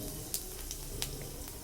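Panch phoron and whole dry red chillies sizzle in hot mustard oil for a sweet tomato chutney, giving a quiet, steady crackle with a few sharper pops.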